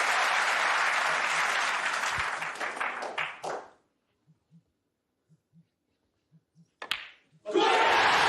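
The Crucible crowd erupts in loud, sustained applause and cheering after a maximum break in the 2023 World Snooker Championship final, then falls silent before a fresh burst of clapping at the end.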